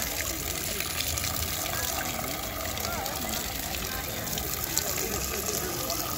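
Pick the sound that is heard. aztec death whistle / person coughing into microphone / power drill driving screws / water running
water running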